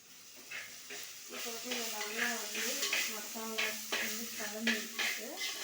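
Capsicum and potato fry in a pan while being stirred, with a soft sizzle under repeated scraping strokes and faint clinks, close by, with a little quiet talk.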